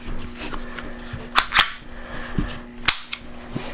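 Ruger pistol parts snap together during reassembly, giving several sharp metallic clicks at uneven intervals over a quiet background hum, close and crisp.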